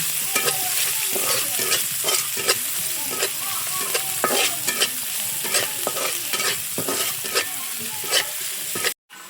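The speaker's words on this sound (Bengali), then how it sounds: "সেই আলুর চপের জন্য পেঁয়াজ মরিচ আর কি টালা হচ্ছে" Onion and green chili frying in oil in a pan for potato chops, a continuous close sizzle with frequent rhythmic scrapes and clacks of a spatula stirring, no voices, ending in a sudden cut.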